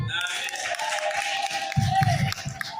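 A church congregation claps in a short burst of rhythmic hand claps, with voices and room murmur under it.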